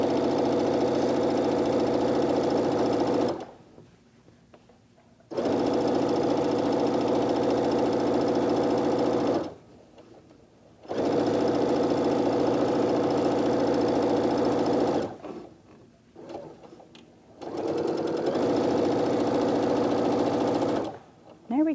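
A sewing machine stitches a quilt seam in several long steady runs of about five seconds each, broken by short pauses where a voice talks quietly.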